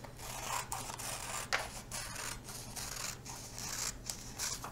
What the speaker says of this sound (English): go ahead and cut on the dotted line